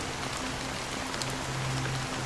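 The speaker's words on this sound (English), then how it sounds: "it's still raining." Steady rain falling in the video game Honkai: Star Rail, an even hiss of droplets with faint low tonal hums underneath and no talking.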